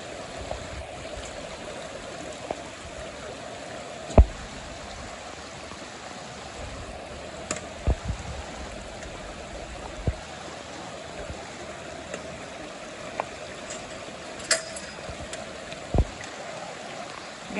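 Floodwater from a swollen creek rushes into ranch pens, a steady broad wash of flowing water with occasional sharp knocks and splashes over it.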